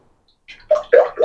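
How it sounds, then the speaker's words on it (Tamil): Sunflower oil is poured into an iron pan on a stove, giving a short liquid splash and gurgle that starts after a brief silence and comes in a few quick surges, close and fairly loud. "sunflower oil ஊத்துறேன்"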